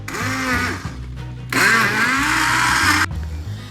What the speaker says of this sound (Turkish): Pişen patateslerimizi tane kalmayacak şekilde blenderdan geçiriyoruz.